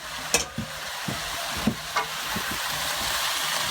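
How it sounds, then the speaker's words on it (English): A pan of stir-fried cabbage and mixed vegetables for gado gado is stirred, with a few distinct scraping strokes over a steady, close sizzle. "And you give that a quick stir."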